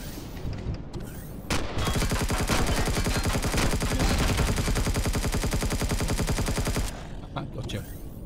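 A turret in the Empyrion Galactic Survival video game firing a long, rapid, evenly spaced burst of loud shots for about five seconds, with quieter game noise before and after.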